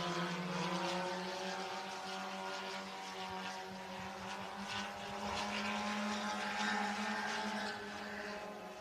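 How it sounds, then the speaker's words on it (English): Sport compact race cars wind through turns 3 and 4 at Hancock County Speedway, engines droning loudly and continuously as several cars run together with little variation in level. "Winding the cars through turns 3 and 4"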